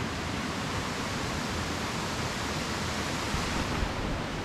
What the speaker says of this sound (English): looking over the waterfall over there.